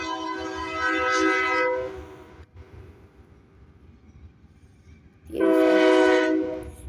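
A passing train gives two separate horn blasts, each lasting about a second or more, with a quieter stretch of rumbling and rail noise between them; the horn sounds close and loud.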